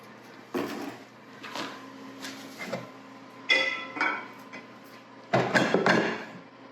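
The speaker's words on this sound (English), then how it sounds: "I'm gonna loosen it up on the edges, so hopefully it will just slide right out of this skillet" A utensil scraping around the edges of a cake in a skillet, with several short clattering scrapes and knocks spaced out over a few seconds, fairly close and alone.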